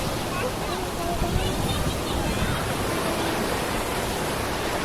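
Ocean surf breaks along the rocky shore of Cape D'Aguilar in Hong Kong, a broad, continuous wash of noise that stays loud and steady with only slight swells.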